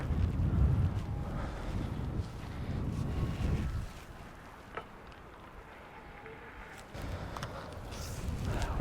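Wind buffets the microphone at a shoreline fishing spot near a green light, rumbling low and strong in gusts, easing briefly midway before picking up again.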